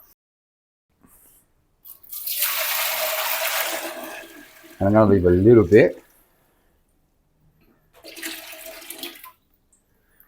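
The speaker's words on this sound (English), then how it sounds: "So I'm going to add all the water." Water poured into a spiral mixer holding sourdough flour in a micro bakery: a steady rushing splash for a couple of seconds, then someone talks, followed by a shorter second pour.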